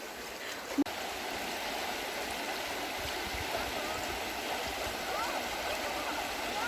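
A river flows steadily in a continuous, fairly quiet rushing wash, with one brief knock near the start.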